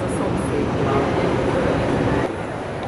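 A Budapest Metro line 4 subway train rumbling steadily in an underground station, a loud continuous roar with a slight drop near the end.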